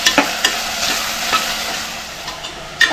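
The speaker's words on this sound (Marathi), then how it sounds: "गॅस वाढवायचा आहे आणि हा कांदा आपल्याला असं नरम करून घ्यायचा" Finely chopped onion softening in a pan over a raised gas flame, a steady soft sizzle broken by occasional scraping stirs and a sharper clink near the end, with no talking.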